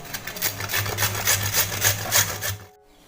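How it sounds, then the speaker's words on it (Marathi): Radish (mooli) is grated by hand for parathas, a rapid series of rasping scrapes in an even back-and-forth rhythm, close and clear with no talk, stopping abruptly near the end. "हा जो मुळा आहे तो आता आपण ना किसून घ्यायचा"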